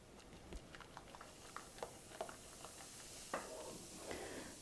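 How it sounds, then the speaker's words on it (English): A spoon stirring baking soda into a pot of boiling water in a home kitchen, with faint scattered taps and scrapes against the pot over a soft bubbling hiss, quiet and close. "Give it a stir to make sure that soda is dissolved in the water."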